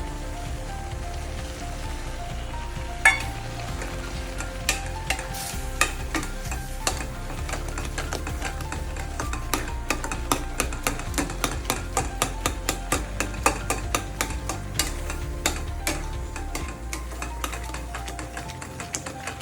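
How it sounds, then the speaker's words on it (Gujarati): Mawa being stirred into carrot halwa in a pan, with repeated sharp scrapes and taps of a spoon against the metal. The strokes fall in a fairly regular rhythm over a low, continuous frying hiss and are heard close up. "માવો બરાબર મિક્સ કરીને"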